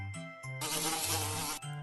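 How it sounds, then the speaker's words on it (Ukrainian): A steady bee buzz drones close by, rising and falling slightly in pitch, with no voices. "а бджола збирає мед."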